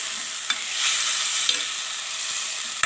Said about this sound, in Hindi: थोड़ा सा इसमें फ्राई करेंगे तब तक जब तक इसका कलर थोड़ा चेंज हो जाए